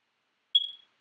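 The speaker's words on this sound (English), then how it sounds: "Do you hear my smoke alarm?" Smoke alarm in a home gives a single short, high-pitched electronic chirp, faint and brief, in an otherwise silent moment.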